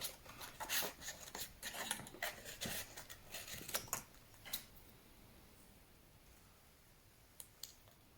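Scissors snipping around small pieces of felt, a quick run of close, quiet clicking cuts that fades out, leaving near silence with a couple of faint clicks at the end.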